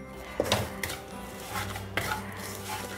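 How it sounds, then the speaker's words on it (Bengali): Vermicelli frying in melted butter, a spoon knocking and scraping against the pan in a few sharp strokes over a continuous close, busy rumble. "সেমাইটা দিয়ে নাড়ার উপরে থাকতে হবে এবং খুব সুন্দর করে সেমাইটা ভাজতে হবে।"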